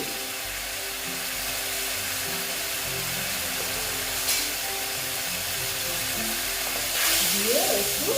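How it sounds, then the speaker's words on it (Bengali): Spices frying and being stirred in a pan for a sweet pumpkin curry give a constant close hiss, with a brief scrape near the middle and another toward the end. "নেড়ে চেড়ে নিচ্ছি মশলাটা মোটামুটি আমার ভাজা হয়ে গেছে"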